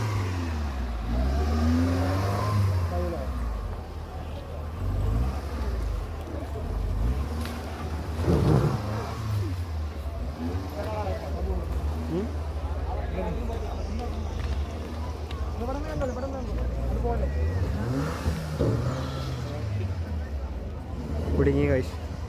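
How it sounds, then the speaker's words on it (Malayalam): Maruti Gypsy SS1 engine working on an off-road track, revving up and down continuously at close range, with voices talking over the engine throughout. "Gypsy SS1 ഓടിക്കൊണ്ടിരിക്കുകയാണ്."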